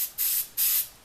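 Flat black spray paint hisses from an aerosol can in two short bursts, the second louder, close by with a faint hiss lingering between and after them.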